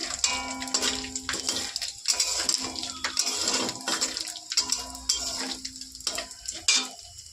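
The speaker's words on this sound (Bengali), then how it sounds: "এবার এই তেলের মধ্যে জিরে, তেজপাতা, শুকনো লঙ্কা আর গোটা গরম মশলা ফোড়ন দিয়ে নেব" Cumin, bay leaf, dried chilli and whole garam masala frying in hot oil in a pan: loud, busy crackling and spattering with repeated stirring scrapes, close up and without talk.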